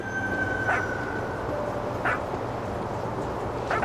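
A dog in the video game What Remains of Edith Finch barks a few times, short and faint, over a steady layer of game ambience and music.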